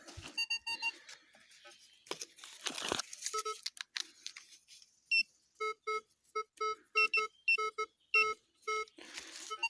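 A metal detector emits a series of short electronic beeps, sparse at first then coming in a quick repeating run, mixed with crinkling and scraping of soil.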